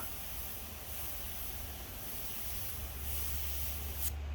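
An Aircobra airbrush spraying paint makes a continuous airy hiss, close and steady, with a low compressor-like hum building in partway through and a short sharp burst near the end.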